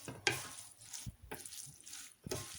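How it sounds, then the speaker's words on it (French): Olive oil and a food mixture stirred in a pan while chicken is prepared for steaming, giving soft scraping strokes in a few bursts with a light sizzle between them, close by and with no talk. "Je vais mettre un petit peu d'huile d'olive. Je mélange tout."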